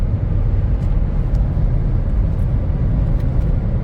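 A Ford Fiesta ST with about 115k miles drones steadily from inside the cabin as it pulls through the upper gears, a loud, even low engine rumble with no clear break between shifts.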